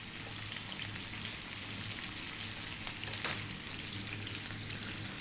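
Eggplant and onion fry over high heat in a pan, giving a soft, even sizzle with small crackles and one sharp pop, fairly faint and steady with no talking.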